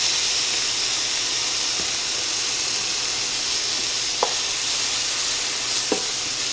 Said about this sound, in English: I'm going to saute these down